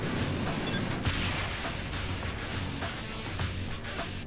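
Missile launcher firing in Saints Row The Third, heard as dense, booming, continuous game explosions and blasts at steady loudness with no clear gaps.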